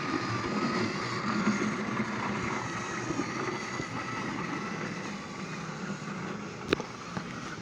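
Thomas and Friends Trackmaster battery toy trains run along plastic track through a toy rail yard, giving a steady, close, continuous motor whir and rattle, with a single sharp click near the end.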